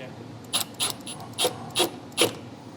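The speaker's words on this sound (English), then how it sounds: "Now we're gonna snug these clamps up." A ratchet tightens hose clamps on an MST cold air intake in a 2021 Toyota Supra engine bay, six crisp close clicking strokes in an uneven rhythm over quiet background.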